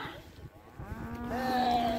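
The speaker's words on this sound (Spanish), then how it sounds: "¿Algo nos quiere decir este torito?" A young bull at an outdoor park in Huancayo, Peru, lets out a drawn-out, rising moo, fairly close, over faint outdoor background noise.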